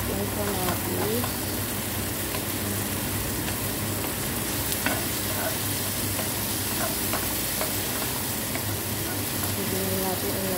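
Garlic, onion and tomato sauté in a pan with a steady close sizzle and occasional stirring scrapes, continuous throughout, with a voice speaking faintly over it.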